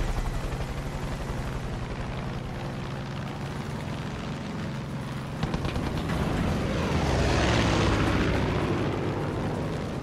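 Airplane flying in the video game Far Cry 5, a loud continuous engine roar that surges and swells partway through amid explosive bursts.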